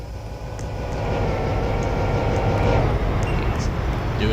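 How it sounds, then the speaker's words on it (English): A switcher locomotive moving on a railroad layout makes a close, steady motor rumble and hum that swells during the first second, then holds at a constant level. "Now we've moved that switcher over so we can give this some space."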